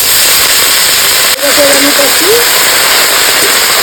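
Cauliflower leaves dropped into hot oil give a steady, bright sizzling hiss that runs loud and even throughout, with a brief clatter as they go in and a voice talking over it.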